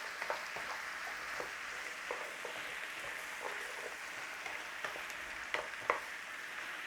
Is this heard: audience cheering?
no